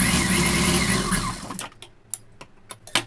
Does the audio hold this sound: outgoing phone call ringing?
no